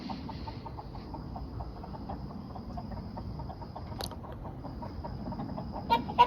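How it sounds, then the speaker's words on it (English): Agitated chickens cluck in a rapid, continuous chatter against a steady hiss of background noise, with a sharp knock partway through and a brief louder squawk near the end. "the chickens are mad about something"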